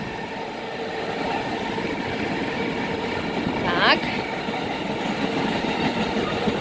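A passing train heard from outdoors on a walk, a steady rumbling wash with a brief rising squeal of wheels midway, while an adult speaks briefly nearby.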